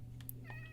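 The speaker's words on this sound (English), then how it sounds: "Kitties." A single short cat meow from the Minecraft video game, a quick mid-pitched mew over a steady low background hum, without speech.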